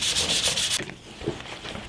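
Sandpaper rubs back and forth on a wooden SKS rifle stock in quick, close strokes, loud at first and then softer and more uneven.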